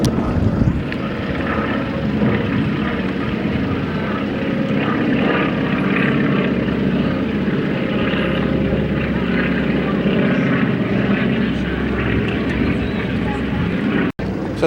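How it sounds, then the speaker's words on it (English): A military propeller plane passes overhead near Budapest, its loud droning engine roar sustained and steady throughout, with people talking over it. "oh, that military plane is back"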